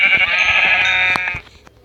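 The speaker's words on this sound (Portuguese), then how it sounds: "outra ovelha" A single sheep bleats in a long, wavering cry inside a forest survival video game, close and clear, fading out near the end.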